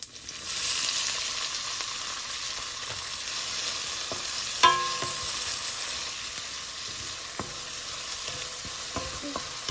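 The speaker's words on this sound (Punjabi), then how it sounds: "ਪਿਆਜ਼ ਨੂੰ ਆਪਾਂ ਥੋੜੇ ਜਿਹਾ ਬਰਾਊਨ ਹੋਣ ਤੱਕ ਚੰਗੀ ਤਰ੍ਹਾਂ ਭੁੰਨ ਲਵਾਂਗੇ" Onions and cumin frying in hot oil in a pan, a constant soft sizzling hiss with occasional light scrapes and taps of a spoon stirring, close and fairly quiet, no voices.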